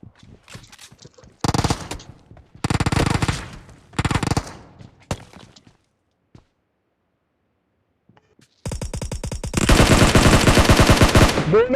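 Bursts of automatic gunfire and rapid shots from the PUBG Mobile battle royale game on the Erangel map, loud and close, several separate volleys, a quiet pause, then a long sustained stream of fire.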